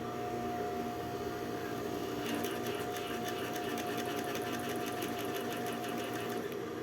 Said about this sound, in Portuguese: o aparelho está regulado para fazer a costura